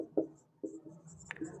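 Pen writing on paper while working a maths problem, a few short soft scratchy strokes close up in a quiet room.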